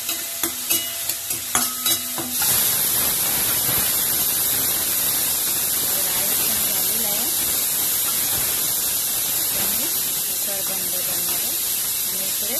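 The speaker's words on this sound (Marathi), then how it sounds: "आता मी याला चांगले परतून घेणार." Cumin rice sautéing in a pan with coriander powder, cumin powder, garam masala and red chilli powder gives a steady, loud sizzle and hiss after a few sharp clinks at the start, with stirring scrapes running through it.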